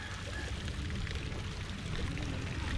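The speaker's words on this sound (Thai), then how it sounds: "บำบัดน้ำเสียเนี่ยที่ทำน้ำพุพุ่งขึ้นมาแบบเนี้ย" A water fountain at a temple's wastewater treatment pond in Nakhon Pathom, Thailand sprays with a constant rushing, splashing wash of falling water, steady and fairly close, with no voices.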